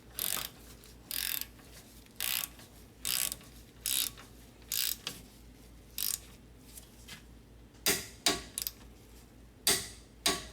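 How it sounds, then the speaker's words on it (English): A torque wrench tightening bolts to 52 foot-pounds on a Toyota Highlander during front wheel bearing and strut work, giving about fifteen sharp, close clicks at a roughly steady pace that bunch up toward the end. "I hope you heard the torque wrench click."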